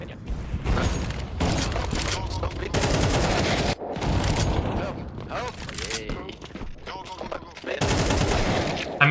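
Rapid bursts of rifle fire in Counter-Strike 2 rattle through the whole stretch, clustered volleys broken by short gaps, with mechanical clicks and game effects in between and voices faintly mixed in.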